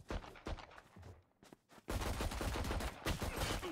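Rapid bursts of gunfire from the Valorant shooter game, sharp cracks in quick clusters with a brief lull before a dense, loud volley of shots.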